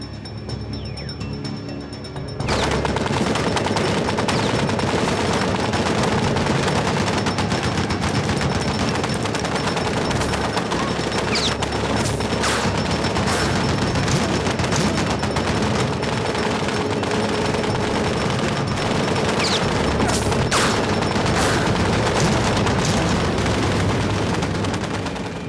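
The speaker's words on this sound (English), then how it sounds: "decided to attack the lone sniper with a heavy machine gun" Heavy machine gun fire in a Second World War battle in Normandy, a dense, loud, sustained barrage of rapid bursts and shots continuing without pause for most of the stretch.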